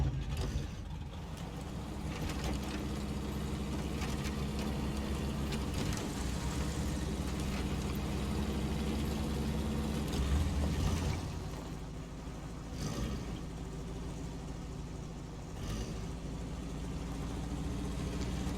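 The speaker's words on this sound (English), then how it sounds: "Engine start. Handbrake release." A truck engine in the SnowRunner video game runs steadily, a continuous low mechanical drone with ratcheting gear noise that swells briefly around the middle, with no voices.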